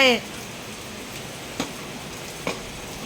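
Rain falls steadily as a soft, even hiss, with a couple of louder drips or splashes nearby and a brief voice at the very start.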